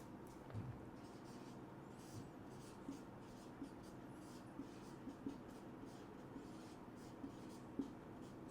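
Chalk or marker writing on a board during a lecture, faint scratchy strokes and light taps in short irregular bursts against a quiet room hum.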